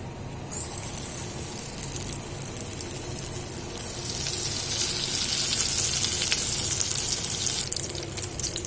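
Battered eggplant fritters (beguni) fry in oil in a black wok over medium-low heat, making a continuous dense sizzle and hiss that swells slightly midway, heard up close with no voices.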